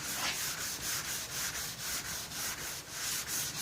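Wet sanding of touch-up paint on a 1966 Ford F1 truck body in a shop, a steady rhythmic back-and-forth rubbing with about two strokes per second, close and alone.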